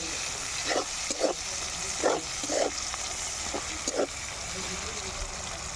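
Chopped onions fry in hot oil in a pan after fish has been fried in it, giving a steady hiss with several scraping stirs near the start, while someone talks lightly over it.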